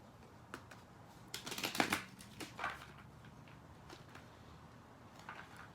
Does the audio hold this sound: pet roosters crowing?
no